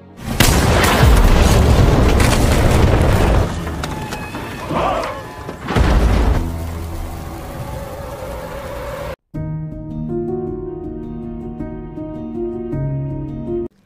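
A loud booming blast from a TV series, with crashing debris, followed by rumbling and lingering noise, then a sudden cut to sustained dramatic music tones.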